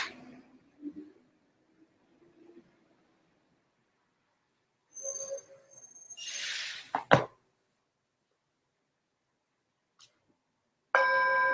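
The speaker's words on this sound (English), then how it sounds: "So I'll go ahead and ring the bell and we'll get started." After soft rustling and near silence, a meditation bell is struck once near the end, and its clear, ringing tone sustains at the start of a guided meditation session.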